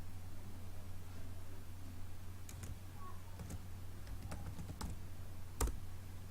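Keys struck on a computer keyboard in Git Bash, a sparse series of quiet, close clicks spread irregularly over several seconds with one sharper final tap, above a steady low electrical hum.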